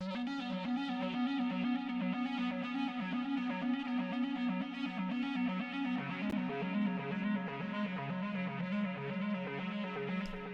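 A buzzy mono synthesizer lead runs through an arpeggiator, playing rapid repeating note patterns in a 90s ambient techno style, steady and continuous with an effected, slightly distorted tone.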